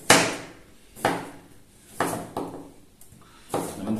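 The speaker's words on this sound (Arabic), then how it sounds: "هو ان اقطع الخضار كله رويه خالص على قدر الامكان" Vegetables being cut finely with a knife on a board, giving six sharp, separate chops at a slow, steady pace, close and clear with quiet between strokes.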